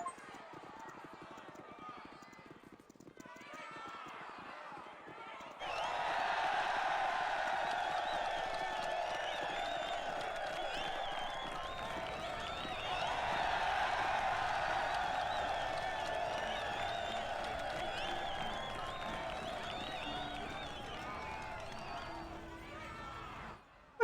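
A crowd cheering in the fantasy role-playing game Baldur's Gate, a broad roar of many voices that swells in, holds steady and peaks midway, with quieter sounds before it begins.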